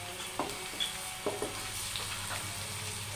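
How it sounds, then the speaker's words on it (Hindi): Carrots frying in gravy with potatoes in a pan give a steady soft sizzle, broken by several short stirring scrapes at irregular intervals. "अब इसमें ग्रेवी में हम गाजरों को हल्का सा भून लेंगे।"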